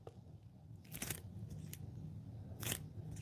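A large-handled hand tool's grip is squeezed, giving a few sharp metallic snips and clicks close up over a quiet background.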